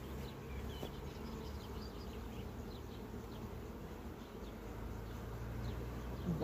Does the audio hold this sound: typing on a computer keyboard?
no